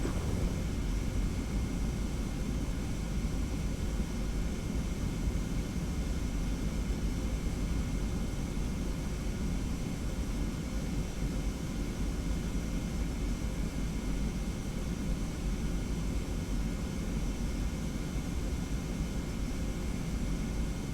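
A Boeing 717 jet rolls out after a night landing at Innsbruck Airport in a flight simulator game, a steady broadband engine and cabin roar held at an even level throughout, with no voices.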